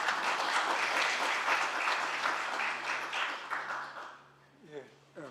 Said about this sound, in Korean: 이미 단상에 올라와 계시기 때문에 환영의 박수 부탁드립니다.